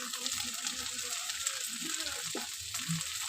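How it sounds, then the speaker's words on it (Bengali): Fried bhola fish added to green tomatoes frying in a pan, a quiet continuous hiss of sizzling oil with soft clinks and shifting sounds as pieces go in. "এখন আমি ভাজা মাছ দিয়ে দেবো।"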